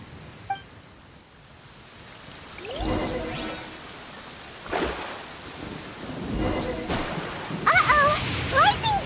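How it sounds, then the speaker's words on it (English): A video-game lightning storm: bursts of rolling thunder crash over steady rain noise, building in loudness with sharper cracks toward the end. "Uh-oh! Lightning storm!"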